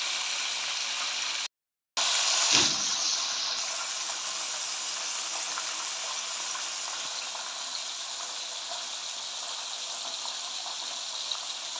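Chicken pieces frying in hot oil, with a steady loud sizzle and hiss and a brief break near the start, followed by a crackling pop; no voices.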